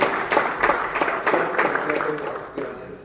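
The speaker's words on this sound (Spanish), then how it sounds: "den un aplauso al Señor, hermanos" A church congregation breaks into brief applause, a loose series of sharp individual hand claps in an irregular rhythm, with voices faintly underneath.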